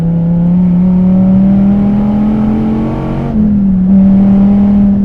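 A DSC Sport tuned Dodge Viper TA with a naturally aspirated 8.4-liter engine drones loudly from inside the car on track, holding a steady high-rpm tone, briefly dipping as it shifts, then pulling strongly again.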